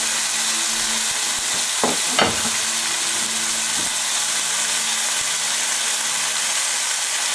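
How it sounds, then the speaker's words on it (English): Meat browning in olive oil in a frying pan for a pot roast, a steady loud sizzle throughout with a couple of brief scraping or stirring knocks near the middle, close and continuous, no talking. "I'm going to just brown my meat and get it really nice and caramelized on all sides"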